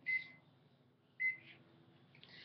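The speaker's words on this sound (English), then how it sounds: "put it in the microwave for 20 seconds." A microwave oven heating cookies gives two short, faint electronic beeps about a second apart over a low, steady hum, with a soft rustle near the end.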